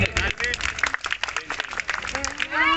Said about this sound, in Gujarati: એડવાન્સમાં જોરદાર તાળીઓ પ્લીઝ આ બંને માટે